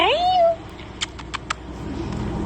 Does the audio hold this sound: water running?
no